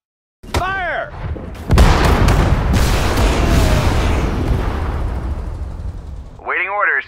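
Booming artillery salvos in Sudden Strike 4, a World War II strategy game set at the Battle of Saipan: a loud, sustained rumbling barrage with sharp blasts, bracketed by short radio-style voice callouts at the start and end.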